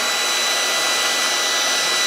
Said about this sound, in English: Turn your hair dryer on,